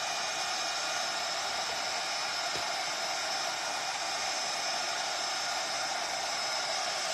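A heat gun blows steadily and loudly to warm a WoodUBend wooden trim, a constant broad airy hiss running unbroken from start to finish with no voices.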